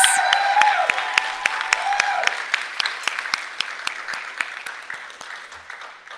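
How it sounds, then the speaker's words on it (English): A room at a school board meeting claps for school team members, fairly loud at first and then thinning to a sparse, slowing patter of separate claps that fades toward the end, with a faint voice early on. "and we applaud them"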